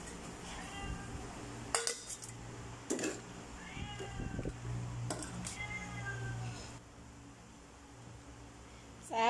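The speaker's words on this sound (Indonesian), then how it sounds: "Ini kucing bising ya, mau makan." A cat in a kitchen meows insistently for food, several close, drawn-out cries spaced through the clip. Cooking clatter and a low hum run underneath.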